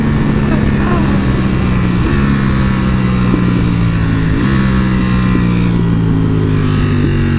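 Ducati Panigale V4R motorcycle engine revving under throttle on a road trip, a loud steady drone with pitch stepping up and shifting between gears, heard close from the rider's position with wind rush.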